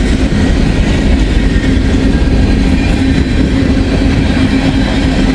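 A train rolls loudly and close over an old bridge and a solar-powered flange greaser, with a constant heavy rumble, a thin metallic ring and a few wheel clicks running unbroken throughout.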